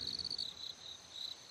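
Crickets chirp in an unbroken, high, rapidly pulsing trill at night, faint and steady over a quiet background.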